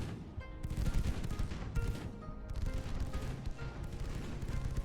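Naval guns fire a broadside in the Ultimate Admiral Dreadnoughts warship game, a dense, continuous barrage of booming gunfire with repeated heavy blasts rolling over one another at steady loudness for about five seconds.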